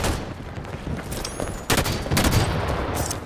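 Rapid gunfire in the video game Halo 5 Warzone, dense crackling bursts of automatic shots with sharper reports partway through, continuous and loud.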